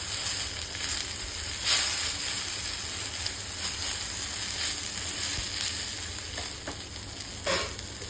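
Okra (bhendi) frying in a pan over a lowered gas flame makes a loud, continuous close-up sizzle, broken by a few brief stirring scrapes and no voices.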